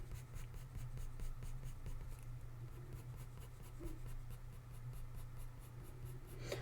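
Graphite pencil drawing a short-haired dog portrait on paper: steady, continuous short scratchy strokes, close and fairly quiet, with a low hum underneath.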